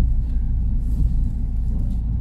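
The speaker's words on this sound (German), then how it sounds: "jetzt hört man schon die ersten Probleme von der Hinterachse. Da könnte mal das ein oder andere Lager neu" A car drives along with worn rear axle bearings, giving a low, steady, close rumble and drone from underneath that holds evenly throughout, with no speech.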